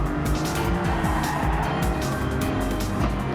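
A race car in a racing video game snaps into oversteer, tires skidding and squealing over a loud, continuous engine drone with rapid pitch shifts, close and intense throughout.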